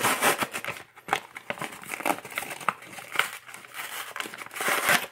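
Foil wrapper of a 2015/16 Upper Deck Series One hockey card pack crinkles and tears as it is pulled open, a continuous close crackling rustle with brief sharper rips.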